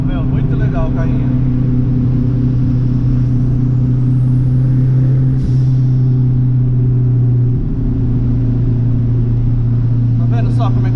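A Fiat 147 Turbo car engine holds a loud, steady low drone with a deep, even hum throughout, a brief dip near the end, and voices faintly present over it.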